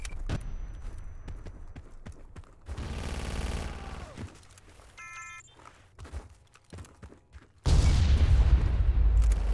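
Battlefield 2142 conquest battle with gunfire and a grenade blast: scattered shots and mechanical clatter, then a sudden loud explosion that rumbles on to the end.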